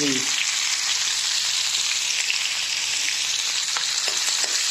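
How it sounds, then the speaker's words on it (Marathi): Thick gravy roasting in hot oil with curry leaves and asafoetida for a pigeon pea amti, a loud, dense and continuous sizzle up close, with light stirring clicks scattered through it and no talking. "हे ग्रेव्ही भाजण्यासाठी मी ह्याच्यामध्ये टाकतो चांगली भाजून घ्यायची"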